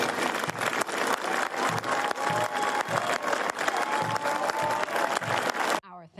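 Applause for a police officer rising from his wheelchair after leaving the hospital, a sustained wash of many hands clapping with some crowd noise, loud and continuous for about six seconds before cutting off.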